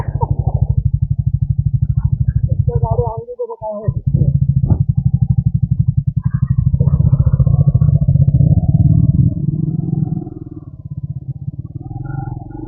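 A motorcycle with a very tight clutch engine rumbles steadily and close on a road ride toward Kalu waterfall, dipping briefly as the rider shifts and then pulling on. Voices talk over the engine.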